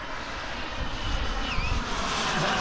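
Model jet turbine engine running in flight with an unsteady, surging tone, a continuous broadband roar at fairly close range with slight rises and falls in level, no talk.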